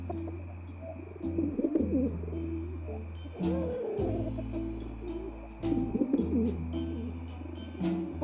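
Pigeon cooing from the comedy point-and-click adventure game 3 Minutes to Midnight, soft throaty coos repeating over a steady low game hum with brief rustling clicks.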